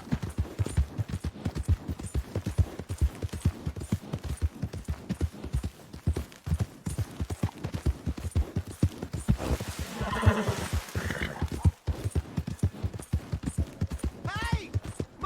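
Rapid hooves clip-clop at a gallop with a horse neighing partway through, loud and close, and a voice speaks over the sound, in the video game Red Dead Redemption 2.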